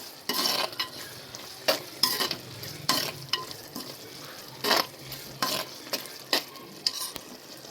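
Boti curry, already pressure-cooked and tempered, sizzles in a pan as a spatula stirs it, with repeated scraping strokes against the metal at an uneven rhythm over a constant low frying hiss.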